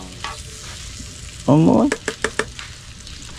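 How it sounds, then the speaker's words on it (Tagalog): Dried fish (tuyo) frying in a pan, with a brief loud burst of sizzling followed by a few sharp spattering pops, under light background noise and a short spoken word. "Sino na prito sa tuyo?"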